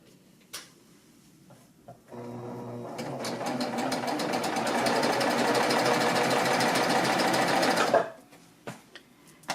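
A sewing machine stitches bias piping in a steady, rapid mechanical whir that runs for about six seconds, with quiet handling clicks before and after.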